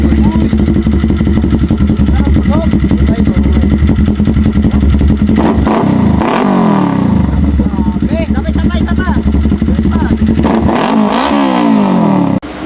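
A motorcycle engine revs loud and close for the whole stretch, with repeated rising throttle bursts over a steady idle rumble. A voice talks over it throughout.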